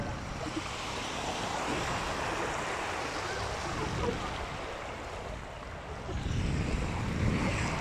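Waves wash steadily onto the sand at Torre Abbey Sands beach in Torquay, a continuous broad surf rush with wind buffeting the mic and the wash swelling louder toward the end.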